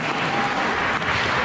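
Audience applause, a dense, steady burst of clapping from a crowd at the AARAV 24 event, loud and unbroken throughout.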